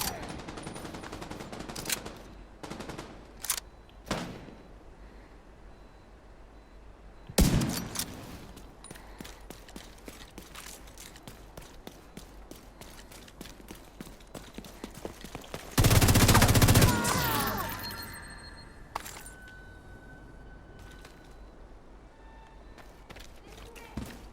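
Gunfire in a video game, scattered sharp shots and short bursts over a low background, with one loud sustained blast near the middle and fainter pops after.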